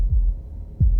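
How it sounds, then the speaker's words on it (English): Deep heartbeat thumps in the video game Slay the Princess, two low muffled throbs spaced under a second apart over a steady low hum, close and isolated. "That was the sound of a heartbeat,"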